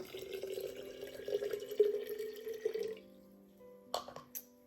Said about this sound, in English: So let's pour all of the ingredients in our jar.